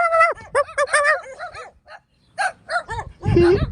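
A handful of dogs bark loudly and close by in quick, uneven bursts mixed with higher yips and whines, with a short pause before a final cluster of barks.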